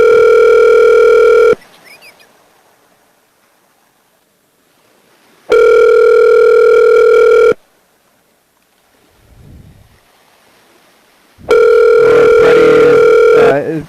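Three long telephone ringback tones, each about two seconds, separated by quiet gaps while a call is placed to a producer; a voice talks briefly in one gap and again over the final tone.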